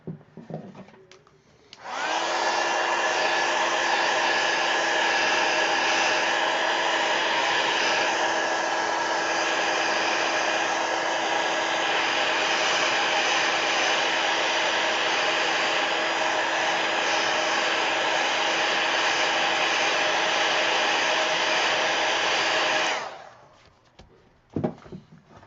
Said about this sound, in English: I probably should hit it with the heat gun first